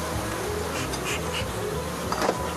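Honey bees buzz steadily and thickly around hives at an apiary on harvest day, forming a constant close drone with no talk over it.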